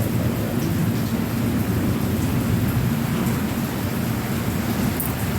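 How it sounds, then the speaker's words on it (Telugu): A thunderstorm in Ongole brings a downpour of heavy rain, a loud, steady roar of falling water with a low rumble beneath it, close and continuous throughout with no voices. "వాన భలే పడుతుంది."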